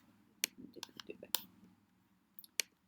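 A computer mouse clicks while photos are selected in Lightroom, a few sharp, quiet clicks scattered unevenly over soft background murmur.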